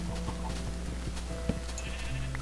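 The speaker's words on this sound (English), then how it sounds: "Quite a bit of farm animals." Sheep bleat among the farm animals in the Minecraft video game: a few short bleats over a steady low background hum, with no talking.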